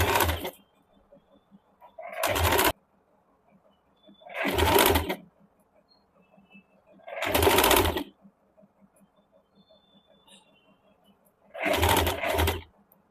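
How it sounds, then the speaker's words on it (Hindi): A sewing machine stitches a folded black collar band into a curved seam on a suit, running in four or five separate bursts of a couple of seconds each, with quiet pauses between them and no talking. "अभी जो बाहर ब्लैक वाला कपड़ा निकला हुआ है, इसको इस प्रकार से फोल्ड करके गोलाई से सिल देंगे।"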